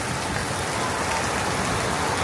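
Steady rain pours down as a dense, even hiss on surfaces, loud and continuous with no voices.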